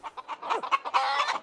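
Chickens from the farm life game The Sims 3 cluck in a quick, choppy series of short calls, fairly faint and close together with no talking.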